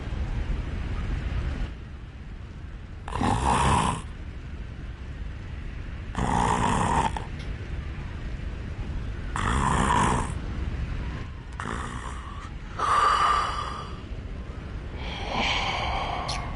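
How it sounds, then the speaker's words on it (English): A video game character snores through a sleep emote: slow, loud snorting breaths, about six of them, each a few seconds long, spaced by quieter pauses, with no voices. "Sounds like Framp snoring?"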